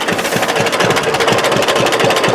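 A 1937 John Deere B tractor engine runs with a steady, rapid chugging knock, loud and close, and a rough mechanical clatter throughout, with no voices.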